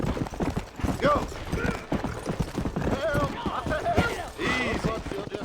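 A horse's hooves clip-clop in a Red Dead Redemption game scene, a quick rhythmic run close by with a brief whinny, mixed under characters' speech and game sounds.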